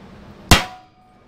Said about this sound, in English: We're gonna center punch right through the cardboard